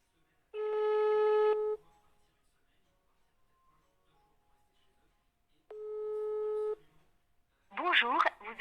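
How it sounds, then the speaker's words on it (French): A telephone call ringing out unanswered: two long, steady electronic ring tones separated by several seconds of silence, followed by a voice beginning to speak. "là, j'appelle, il ne répond pas"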